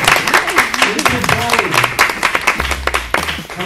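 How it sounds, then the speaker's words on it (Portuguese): A studio audience and hosts clap for a guest at the end of a Brazilian talk show, a dense burst of hand claps lasting a few seconds with a low hum underneath. "3 palmas pra ela, programaço!"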